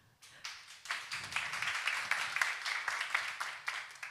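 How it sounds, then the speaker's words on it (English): A modest audience at a deep tech accelerator event claps for a speaker, the applause starting quickly and continuing as a fairly light, uneven patter of individual hand claps over a few seconds. "now round of applause for Sergey"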